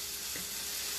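Country fried steak, breaded and fried like chicken, crackles in a hot pan with some pieces cooking a little too dark. The sizzle is a steady, dense, close hiss with no voices over it.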